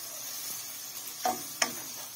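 A soft, steady sizzle of garlic, ginger and green chili frying in a pan, broken by two brief scraping stirs near the end.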